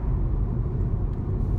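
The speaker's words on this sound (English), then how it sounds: "The 3-cylinder VWG engine is extremely good." A SEAT Toledo 1.0 TSI three-cylinder petrol engine with a six-speed gearbox, heard from inside while driving on the road as a steady low rumble with road noise, loud and continuous.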